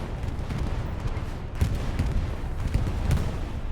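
Bomber airstrike in a real-time strategy video game, with a steady low rumble of distant explosions and scattered muffled booms and thuds of battle.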